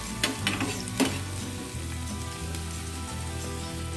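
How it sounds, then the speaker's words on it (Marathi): Chopped onion sizzles steadily in two spoons of hot oil for an egg masala curry, a close, continuous frying crackle with a few sharper pops and stirring scrapes near the start, no talking. "आता तेलामध्ये टाकलेला कांदा चांगला परतून घ्यायचा आहे."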